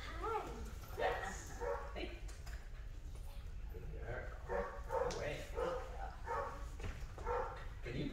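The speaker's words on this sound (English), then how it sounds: "Can you put a bark call on Koopy?" Dog barking and whining repeatedly during an outdoor walk, with excited yips and whimpers over a steady low rumble, while people talk nearby.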